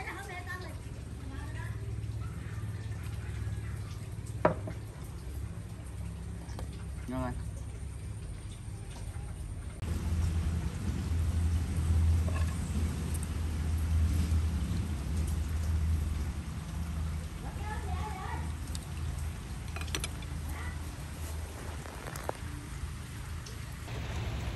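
Steady rainfall hisses throughout, growing heavier partway through, with scattered voices and light clatter underneath.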